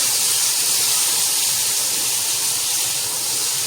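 Four large tomatoes sautéing in a hot pan for aloo mongre curry, a steady loud sizzling hiss that holds unbroken throughout, with no talk over it.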